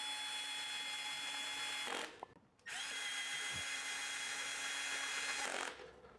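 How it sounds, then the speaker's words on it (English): A cordless power driver whirs steadily in two long bursts separated by a short pause, close and fairly loud, while tightening bolts during a Diamondback Sorrento bicycle rebuild. "I'll start using a driver more for this because it saves so much time."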